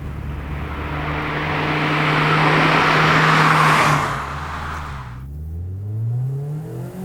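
A 2019 Mazda Miata MX-5 RF engine revs hard in second gear toward 7,500 RPM, a loud rising engine note that swells to a peak, drops sharply as it lets off, then climbs again, with no talk.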